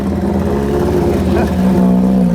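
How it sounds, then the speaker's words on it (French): Race cars idling and revving at a small racing car exhibition in the town centre of Les Andelys, a loud close engine drone with steady harmonic tones that rise slightly near the end. "Et petite exposition de voitures de course dans le centre-ville des Andelys."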